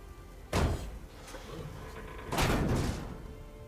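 Heavy door being pried open in Horizon Forbidden West, two loud scraping thuds about two seconds apart with a grinding rumble between them.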